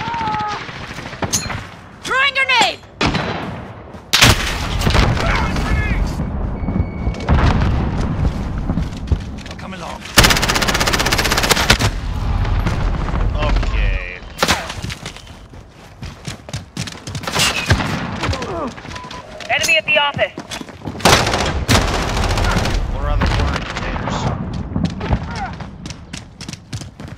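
Heavy video game gunfire with machine-gun bursts and booming grenade explosions, loud and dense across the whole stretch, with game voice callouts mixed in.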